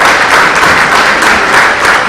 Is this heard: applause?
yes